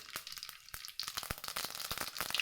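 Mustard seeds crackle and pop in hot oil for a chicken liver fry, giving sharp, irregular sizzling bursts over a soft frying hiss.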